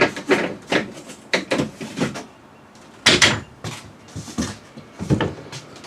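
A wooden drawer aboard a sailboat under refit is worked open, giving a series of sharp knocks, thumps and scraping slides in an irregular rhythm, close and fairly loud, with no talking.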